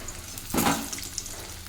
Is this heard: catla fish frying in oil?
yes